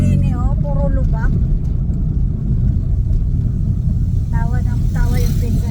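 A car rolls along a potholed road in Daet, its window stuck and not working, with a heavy continuous low rumble and jolting road noise throughout while people talk inside the cabin.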